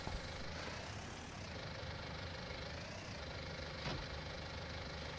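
A small tractor engine in Farming Simulator 19 runs at a steady low idle-like drone, even and continuous for the whole clip with no talk.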